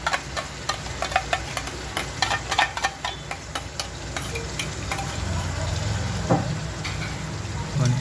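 Chicken frying in a pan with ginger garlic, onion and tomato pastes, a steady close sizzle broken by quick clattering stirring strokes, fairly loud throughout.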